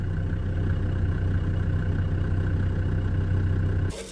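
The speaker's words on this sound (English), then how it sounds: "There's the plough in the background." A tractor with a plough runs on a wet farm, a steady low engine drone with a rhythmic chug heard in the background, wind faintly present, and no talking.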